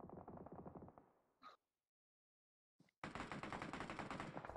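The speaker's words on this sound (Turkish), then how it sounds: "Yukarıdaki Starix'e atışları var Wizard'ın" Rapid automatic gunfire in the PUBG Mobile battle royale game, loud bursts of fast shots that break off into near silence, then resume at full intensity.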